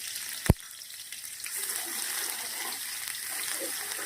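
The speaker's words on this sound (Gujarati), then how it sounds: "ઘી અને તેલ ગરમ થઈ ગયું છે લાલ મરચાં લીલા મરચાં આદુ અને લસણ નાખીશું" Red and green chillies, ginger and garlic drop into hot ghee and oil, starting with a sharp clack, then a soft, steady sizzle and crackle that continues quietly.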